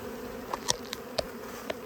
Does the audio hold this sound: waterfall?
no